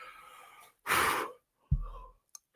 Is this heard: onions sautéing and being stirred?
no